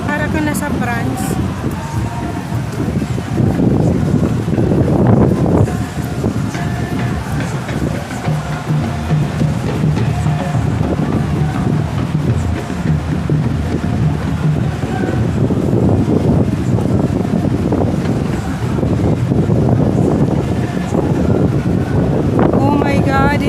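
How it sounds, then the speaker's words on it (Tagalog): Strong gusting wind buffets the microphone outdoors on a city boulevard, a continuous loud roar throughout with louder surges, while people talk over it. "it's so windy outside"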